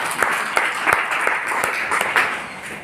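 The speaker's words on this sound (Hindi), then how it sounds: "ताली बजा दीजिए एक बार, हमको भी मजा आ जाएगा।" Audience clapping at a business plan meeting in Jehanabad, India, a steady patter of hands with several louder claps standing out, fairly close and lasting the whole stretch.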